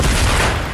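Rapid gunfire rings out in a shooting video game, a loud, dense burst of shots lasting under a second.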